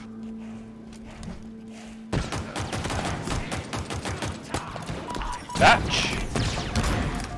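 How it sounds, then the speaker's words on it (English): Assault rifle fire in Halo Infinite, a legendary co-op campaign: rapid bursts of automatic gunfire with impacts and explosions, fairly close, while a player shouts briefly. "Assault rifle all the way."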